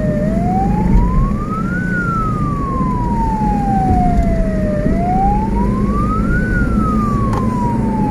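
A wailing ambulance siren sweeps slowly up and down in pitch over steady traffic and engine rumble at night, loud and fairly close.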